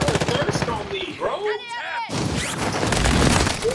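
Call of Duty Modern Warfare gunfire rattles in rapid bursts, loud and close, with a short lull before a heavier stretch of shooting, as voices talk over it.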